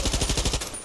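Automatic burst from an SSGP 58 assault rifle in Far Cry 6, about eight rapid, evenly spaced shots with heavy low-end thump, close and loud, trailing off into a short decay.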